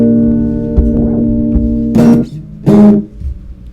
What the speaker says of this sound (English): Delay.